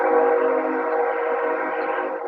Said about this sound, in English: Here comes the train for you.